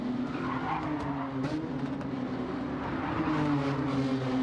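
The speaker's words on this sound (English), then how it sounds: "Tyres squealing around these corners." Race car tyres squeal in sustained screeching tones alongside a droning car engine, steady and moderately loud throughout, during a touring car race at the Nurburgring GP circuit.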